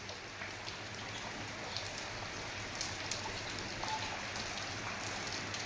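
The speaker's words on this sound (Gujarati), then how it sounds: "ઝીણે ઝીણે ધારે ધીમી ધારે જેને કહેવાય તો એવો વરસાદ છે અટાણે ચાલુ થઈ ગયો છે" Light drizzling rain with wind falls in a Gujarati village near Girnar, a soft, even patter of drops with faint gusts throughout.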